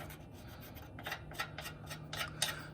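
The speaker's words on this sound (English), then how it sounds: "I'm gonna take my little soapstone here so I can kind of mark where I want to cut" Soapstone scraped across the metal of a Toyota FJ Cruiser body mount to mark a cut line, a series of short, rasping rubbing strokes, close and fairly quiet, with a low steady hum underneath and no talking.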